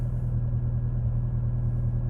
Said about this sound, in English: Engine is cold. I'm going to get some heat in it